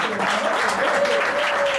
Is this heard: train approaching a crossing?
no